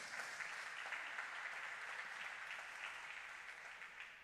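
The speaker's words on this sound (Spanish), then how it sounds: "Oh, dale un aplauso al Señor." Steady applause from a church congregation during a sermon on tithing, a continuous wash of many hands clapping, distant and soft, with no speech over it.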